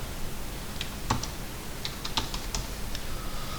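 Keys clack on a computer keyboard as a short AutoCAD command is typed, a handful of quick, light taps spread over a faint room hiss.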